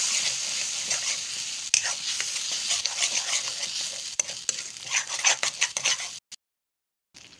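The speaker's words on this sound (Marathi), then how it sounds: "चांगलं परतून घ्यायचं आपल्याला, खाली लागणार नाही याची काळजी घ्यावी" A coconut and onion paste is sautéed and stirred in a pan for a Malvani raw mango curry, with soft sizzling and scraping stir strokes close by, then a sudden cut to near silence at the end.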